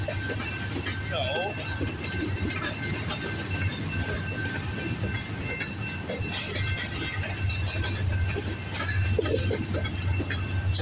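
A long freight train rolls past with a Norfolk Southern DPU locomotive, steady wheel clatter and rumble with rhythmic clickety-clack close by, while someone talks over it.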